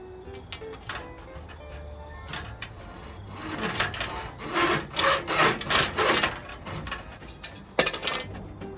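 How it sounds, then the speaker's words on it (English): A hacksaw cuts through a window screen frame in a series of quick back-and-forth rasping strokes that grow louder and more rhythmic midway, then trail off into lighter scraping, close up with no talking. "All you need is a hacksaw."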